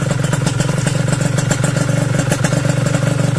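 A racing motorcycle with an Uma Racing 180cc ceramic block idles loudly and close in a steady, rapid pulsing rhythm, while its exhaust area is cooled with water.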